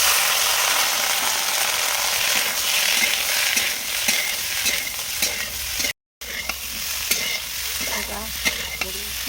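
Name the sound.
peas, potatoes and cauliflower frying and stirred in pan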